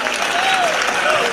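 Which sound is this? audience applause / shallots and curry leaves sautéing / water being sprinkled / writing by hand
audience applause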